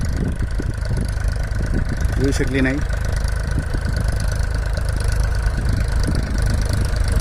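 A tractor engine runs steadily while onion seed is sown in a field, a continuous low mechanical drone throughout with a voice talking over it.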